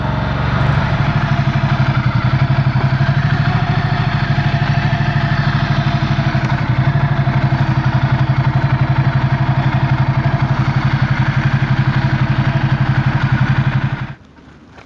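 A Ducati Multistrada 1260 Enduro idles with its stock exhaust, a loud, even, throbbing engine rumble held steady for about fourteen seconds before cutting off abruptly.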